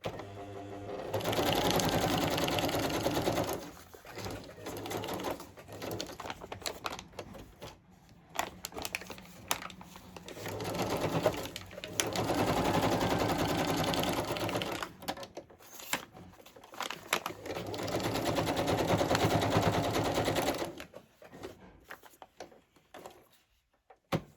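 Rapid mechanical stitching of a sewing machine in several long bursts, with short pauses and handling noises between runs.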